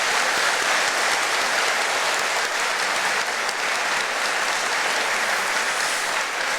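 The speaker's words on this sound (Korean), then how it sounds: "우리 큰 박수로 환송하도록 하겠습니다" A church congregation claps in farewell for a departing pastor during Sunday worship, a full, even wash of applause that holds steady throughout.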